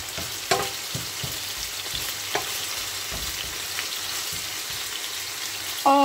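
Diced chicken breast sautéing with pumpkin and garlic in a pan, a close, steady sizzle and crackle with occasional stirring scrapes and no talk.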